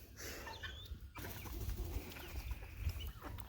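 Chickens cluck and birds chirp on a farm with puppies, pigs and a duck nearby, heard as soft, close scattered calls over low rumbling background noise.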